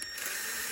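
Engine bolts on a Honda F20B engine build are tightened with a ratchet, giving a brief close run of dense mechanical clicking lasting under a second.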